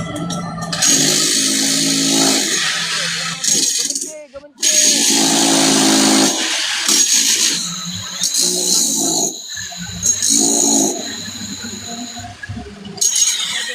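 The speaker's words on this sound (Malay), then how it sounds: "Ada bunyi berudi tuan." A loud, harsh drill whines and grinds steadily, with brief pauses and changes in pitch, under occasional muffled voices.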